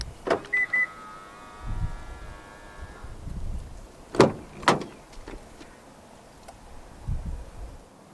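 A 2022 Isuzu D-Max 1.9 4X4 Premium double cab unlocks from its keyless entry button, with a short electronic chirp, a brief whir, and later sharp clicks and clunks of the door locks nearby.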